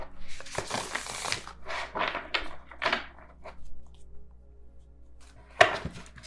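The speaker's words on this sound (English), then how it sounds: "I'm going to try to shuffle the Light Seers Tarot" Light Seers Tarot cards are shuffled by hand in bursts of papery riffling and soft slaps, with a sharp tap near the end, close up in a quiet room.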